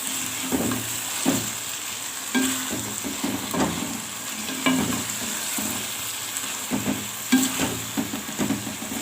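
Masala pulao mixture frying in a pot, an even sizzle under repeated scraping stirs from a spoon at moderate volume.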